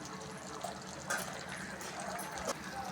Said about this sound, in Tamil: கொஞ்சம் இந்த மிக்சி ஜாரில் கூட அலசி தண்ணி ஊற்றிக்கலாம்